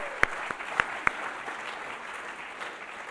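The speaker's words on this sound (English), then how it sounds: "So let's give them a round of applause." Applause from an audience at a museum art talk on Dutch and European art: a few sharp claps up front, then a soft, steady patter of clapping that fades down over the following seconds.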